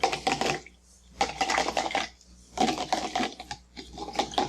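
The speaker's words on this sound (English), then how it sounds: "I'm going to stir inside of the cup so you guys can see." A spoon stirs liquid inside a cup during a kids' science experiment, clinking and scraping in quick, busy bursts separated by short pauses, close and fairly clear.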